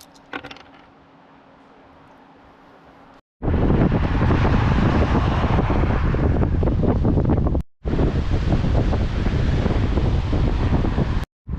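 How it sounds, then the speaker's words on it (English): Rapids of the Similkameen River, a loud, continuous rushing roar of whitewater broken by two brief gaps, heard after a quieter opening stretch and buffeted by wind on the microphone. "So that's the Similkameen River we've been following for about 20k, 30k, and the thing is just rapids the whole way down."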